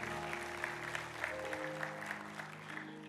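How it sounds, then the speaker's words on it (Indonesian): A church congregation in Surabaya claps together, steady full applause from many hands filling the hall with a soft sustained patter. "beri tepuk tangan saudara."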